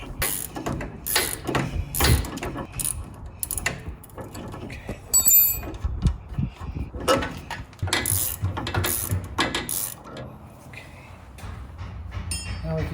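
An 18mm gear wrench ratchets on a Jeep Wrangler JL sway bar link bolt while an Allen wrench holds it, making bursts of quick metallic clicking with pauses and faint handling noise between them.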